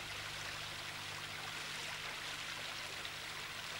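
Stream water flowing in a limestone landscape, a steady, even broadband rush that holds constant throughout, with no talk over it.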